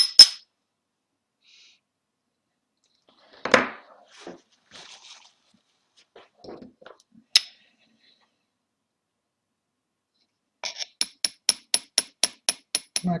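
Hand engraving of metal with a small hammer tapping a chisel, no power tool: a few scattered faint knocks and scrapes, then a quick, evenly spaced run of sharp light taps close up.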